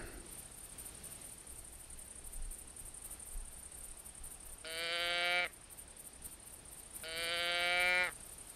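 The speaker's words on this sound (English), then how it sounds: "let's get our, our uh, doe bleat caller out here" A doe bleat deer call blown in The Hunter hunting game, two drawn-out nasal bleats around five and eight seconds, loud and close over a quiet forest background with a steady high hiss.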